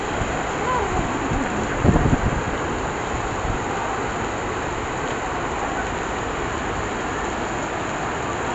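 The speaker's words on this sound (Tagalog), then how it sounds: "Lakas ng ulan" Steady, dense heavy rain with wind roaring continuously at close range in Cagayan de Oro City, with a brief low thump near the two-second mark and no voices.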